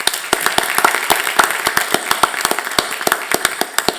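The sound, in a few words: applause at a school board meeting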